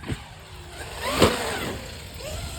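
A Traxxas XRT RC truck with 2250 gearing whines as it accelerates for a jump, its motor pitch rising sharply to a brief peak, then fading. It is close, with outdoor background noise.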